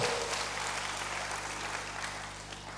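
A church congregation claps in praise to God, a soft, steady wash of applause continuing evenly at a moderate distance with a low background hum underneath.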